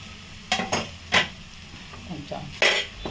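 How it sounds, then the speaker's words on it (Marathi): Mashed potatoes are mixed with thecha for Maharashtrian batata vada, with a few soft scraping stirs and clinks of a spoon against the bowl, scattered and close, over a quiet kitchen background. "आता मिक्स करून घ्यायचं एकजीव होईपर्यंत आणि हा सगळा ठेचा ना सगळ्या बटाट्यांना एक समान लागला पाहिजे"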